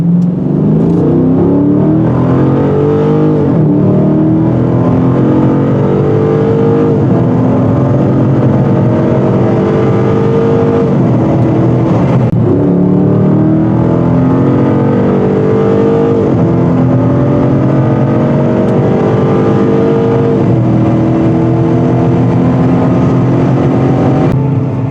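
A 2023 Dodge Challenger 392 V8 drones steadily under acceleration from inside the car, a loud continuous engine note with repeated rising pitch sweeps through the gears, no voices heard.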